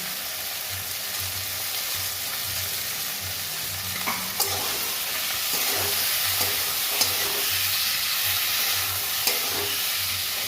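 Garlic and ginger frying together with vegetables in a pan for a ridge gourd, potato, fish and lentil-dumpling curry: a steady close sizzle, rising a little partway through, with a few scattered clicks from stirring.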